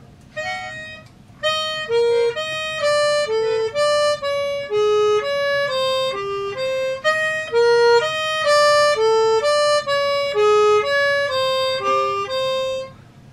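A harmonica, played with tongue blocking, runs steady triplet patterns built on fourth intervals, a long continuous stream of short reedy notes stepping up and down, close and loud with no talk.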